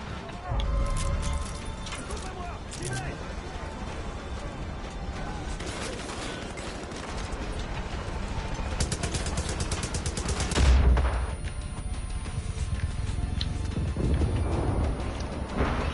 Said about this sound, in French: C'est qu'il me tire dessus.